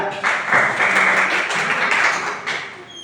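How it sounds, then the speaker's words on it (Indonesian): A small group claps for Mbak Zia during a microteaching lesson, a dense burst of hand claps holding steady for a few seconds before thinning out near the end. "beri tepuk tangan Mbak Zia"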